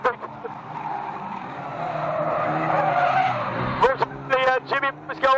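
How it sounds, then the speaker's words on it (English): Race cars skid and crash at a raceway during an old boys meeting, a long loud tire screech sweeping up and fading, followed by sharp engine and tire bursts, with a commentator talking over it. "We got a bit of a crash here"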